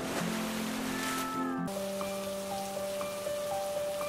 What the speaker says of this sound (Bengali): আর এখানে বৃষ্টিতে কেন ভিজছো?